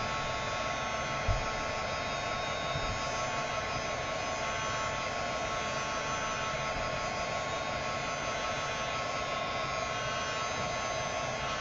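A heat tool or hair dryer drying mixed media paint on canvas roars in a constant, loud, even blow that holds steady and alone for the whole stretch.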